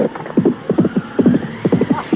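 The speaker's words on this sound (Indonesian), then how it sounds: "Laki-laki yang sejak tadi ada di kuda pergi." A horse's hooves clop in quick uneven bursts as it gallops off in an audio drama, loud and close with no voices.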